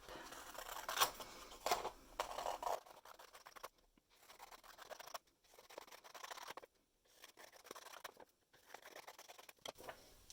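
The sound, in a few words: scissors cutting paper strips for weaving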